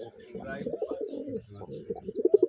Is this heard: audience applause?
no